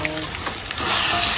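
Biryani masala and vegetables hiss and sizzle in a hot pan while being stirred together for a veg dum biryani, a steady broadband frying crackle that swells louder in the second half, with no talking.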